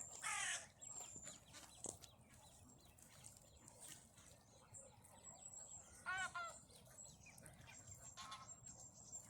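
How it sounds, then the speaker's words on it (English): Geese hiss and honk in short bursts amid a busy flock with goslings at Earlswood Lakes, with harsh calls rising over a steady background of birds and outdoor noise. "when I see geese hissing like that, they almost look like velociraptors or snakes with legs."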